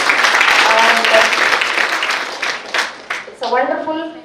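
Conference audience at a medical college's Women's Day and World Kidney Day event applauding mothers, a full room of clapping that swells and then tapers off, with a voice emerging as it fades.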